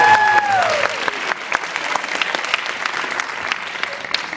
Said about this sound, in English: give these people one more final round of applause